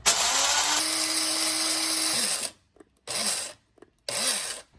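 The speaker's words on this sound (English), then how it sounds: "blade grinder, not the best," A blade grinder grinding coffee beans to a medium grind for French press whines loudly for about two and a half seconds, then gives two shorter bursts after brief pauses, with no talking.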